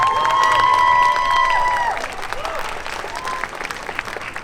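Audience applause and cheering for the Queen and Court at the Northern California Cherry Blossom Festival, a steady crowd clapping with whistles and shouts that fades after a couple of seconds.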